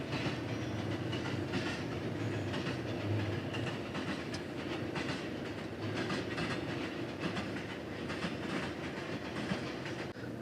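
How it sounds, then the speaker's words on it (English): A train rolling past near the Romania–Bulgaria border checkpoint, a continuous rumble with rhythmic wheel clatter heard from a short distance, steady throughout without a break. "Nice train."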